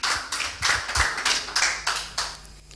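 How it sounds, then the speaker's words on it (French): A congregation clapping unto the Lord at a bilingual English-French sermon, close rhythmic hand claps at a steady pace, roughly eight strong beats in a row with no talk over them. "Can you clap unto the Lord?"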